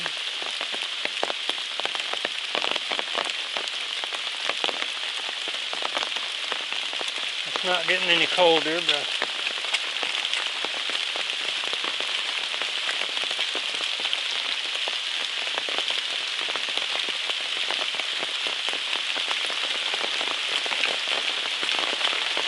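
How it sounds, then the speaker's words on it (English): Heavy rain pours steadily on a hiking trail in the 100 Mile Wilderness of the Appalachian Trail, a dense, unbroken hiss throughout, with someone briefly speaking partway through. "Still pouring down rain."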